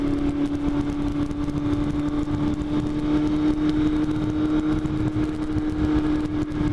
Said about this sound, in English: you get a good sound out of that exhaust